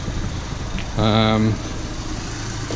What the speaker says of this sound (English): we're going to reverse it in backwards now